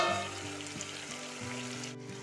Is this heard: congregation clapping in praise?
no